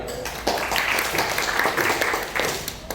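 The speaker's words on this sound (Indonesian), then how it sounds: "Oke, tepuk tangan dulu." Applause from a class or seminar audience during a teaching session, a moderate crowd clapping steadily for a few seconds, somewhat distant and evenly sustained.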